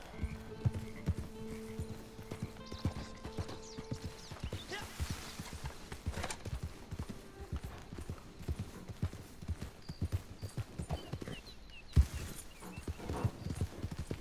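Hooves of a horse clip-clop in rapid, even rhythm in the video game Red Dead Redemption 2, a steady galloping patter throughout with a brief whinny and occasional game tones and voices in the background.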